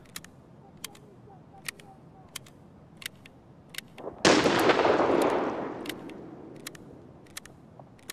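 A single grenade explosion in Escape from Tarkov bursts suddenly, then rumbles and fades over a couple of seconds, with faint regular clicks ticking throughout.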